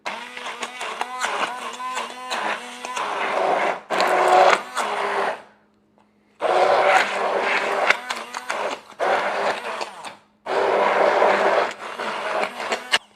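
A small kitchen blending gadget runs in turbo mode as a series of loud, whirring motor bursts, each lasting a few seconds, separated by short silent gaps.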